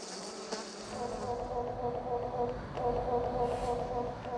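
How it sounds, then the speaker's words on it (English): Bees sipping flower nectar, a continuous low insect buzz that hums steadily and close, with slight swells in loudness. "she has recorded the buzzing of bees as they sip nectar"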